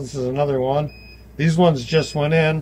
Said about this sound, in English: Excuse the beeping, it's because I have the door open